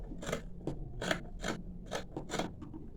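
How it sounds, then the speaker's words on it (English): Scissors trimming excess fabric from the back of a sewn bow tie turban: about seven crisp snipping cuts in a quick, uneven rhythm, close and clear, with no talking. "You take your scissors, you trim out the excess."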